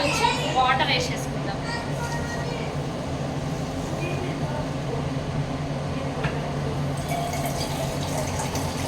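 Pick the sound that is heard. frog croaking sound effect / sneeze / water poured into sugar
water poured into sugar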